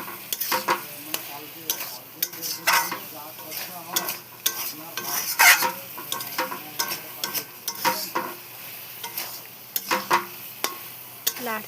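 Boiled peas and potatoes fry in oil while a spatula stirs and scrapes them around the pan, giving a close, busy sizzle punctuated by irregular metallic scrapes and knocks.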